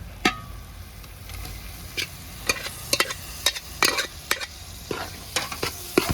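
A spoon stirs chicken parts frying in a pan, irregular scraping knocks over a steady low sizzle, close and fairly loud.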